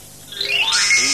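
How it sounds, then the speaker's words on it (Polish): A cartoon jungle safety bell, used by animals to summon help, rings in a bright rising jingle of tinkling tones that swells quickly and holds loud and close for about a second. "Dzwonek bezpieczeństwa jest po to, by każde zwierzę mogło wezwać Tarzana, kiedy jest chore lub ranne."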